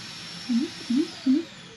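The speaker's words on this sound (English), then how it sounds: "I have a little robot vacuum." Three short, low whirring bursts from a robot vacuum's small motor as it empties itself, evenly spaced about a third of a second apart, close by over a quiet hum.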